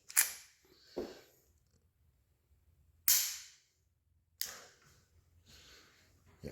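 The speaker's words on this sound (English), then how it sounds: "You can dry fire." Several sharp, dry mechanical clicks from a Ruger LCP .380 pistol being dry fired, four of them spaced unevenly over a few seconds, close and fairly crisp against near silence.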